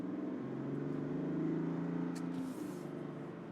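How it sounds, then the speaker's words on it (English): A steady engine drone with a rising whine of turbos spooling up, heard from inside a 2025 GMC Sierra SLT crew cab pickup with the 3.0L Duramax diesel, fairly quiet and continuous. "You can hear those turbos just spooling."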